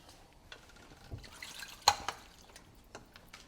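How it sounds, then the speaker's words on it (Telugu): Water drains from boiled chana dal with faint, scattered drips and one brief splashy trickle in a quiet kitchen. "సో వాటర్ ఫిల్టర్ చేసేసుకుందాం."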